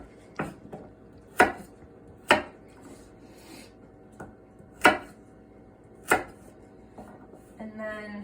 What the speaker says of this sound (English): Probably one of the bigger ones you want to do a couple more cuts, quarter them.